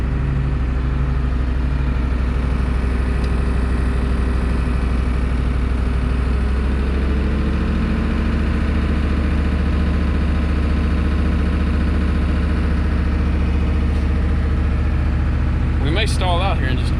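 A 1990 Ford F350 with an IDI diesel engine and fuel supply problems idles steadily up close, a deep continuous chugging rumble that holds even throughout, with a brief sharp chirp near the end.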